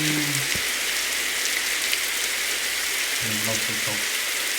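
Rain falls in the Roblox airport simulator game, a loud, steady synthetic hiss of downpour, with a few brief low tones near the start and again toward the end.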